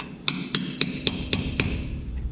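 A 20-pound hammer strikes metal on a Mack R686ST truck during restoration: six loud, sharp, ringing blows land at an even rhythm, then the clip trails off into quieter shop noise with no talk.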